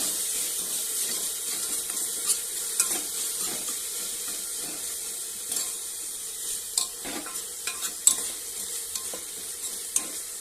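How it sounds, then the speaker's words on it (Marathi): Rajma masala stirred and mixed in a pan with a spoon, soft scraping strokes and light clinks repeating irregularly over a low background hiss, fairly quiet, no speech. "आता हे सगळ्यांना मिक्स करून घेत आहे।"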